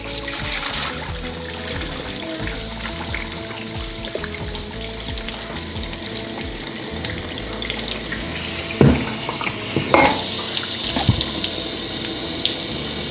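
Water runs steadily from a kitchen tap into a sink during cooking, a continuous near hiss and splash with a few louder clatters and splashes toward the end, no talking.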